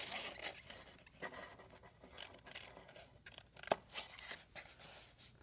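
Scissors snipping through the board of a box frame along a diagonal, a quiet close series of irregular cuts and rustles with no talk.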